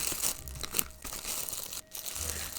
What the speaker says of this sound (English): let me just get the cellophane off so we can have a closer look at the box